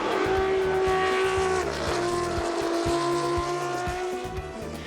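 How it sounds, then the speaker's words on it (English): A Matra 670 race car's V12 engine at the Le Mans Classic, a loud, sustained high-revving howl with steady harmonic tones and shifting pitch, close and unbroken, no talk. "Richard Mille, Romain Dumas and Yvan Mahé, this machine left its mark on the history of racing cars with the unforgettable sound of its V12 engine"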